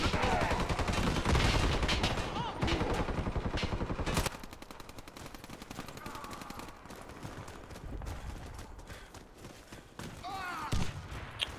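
Gunfire crackles in a video game, with dense rapid bursts of shots followed by sparser single cracks and thuds, loud and near, and a voice talks briefly near the end.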